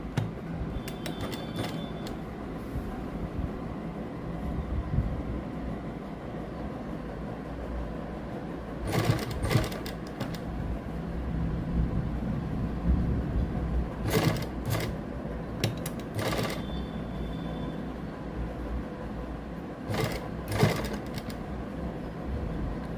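Lace being stitched onto a sleeve with a sewing machine gives brief whirring, rattling bursts of needle action, set apart by quieter stretches of low hum and handling noise.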